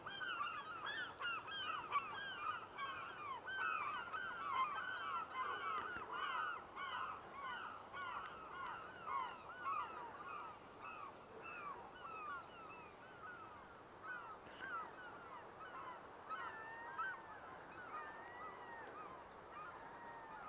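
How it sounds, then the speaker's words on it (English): Glaucous-winged gulls at Sargeant Bay give repeated harsh, wailing calls in overlapping bursts. The calls are faint and distant against quiet background noise. "Sounds like they're"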